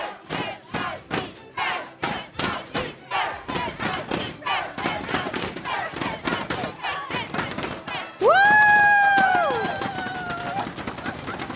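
Esports fans of team NIP Flash at a Mobile Legends grand final chant in a loud rhythmic beat, each shout landing like a thud, before a sustained roar of cheering with a sharp voice rising above the crowd.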